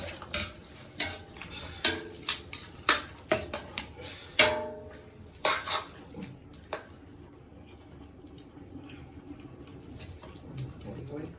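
A spoon scrapes and knocks against a pot while masala with coriander and mint is stirred, sharp irregular clinks coming in bursts that fade out, with soft background noise.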